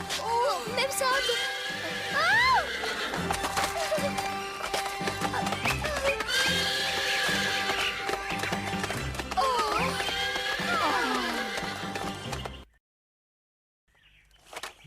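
A cartoon horse gives several loud whinnies and neighs over background music and light hoof clip-clops, ending in brief silence.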